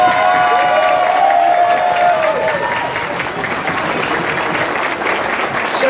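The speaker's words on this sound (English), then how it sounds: "I want a round of applause for both ladies in the ring." Applause for both boxers in the ring at a women's boxing event, a sustained, loud clapping from a crowd filling the venue, with a few faint cheers mixed in.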